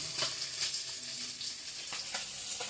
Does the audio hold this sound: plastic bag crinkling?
no